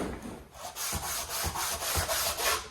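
An aluminum water neck on a budget Chevy rat rod build is sanded flat on a block, giving a steady rhythm of gritty back-and-forth scraping strokes, close and fairly loud, with no talking.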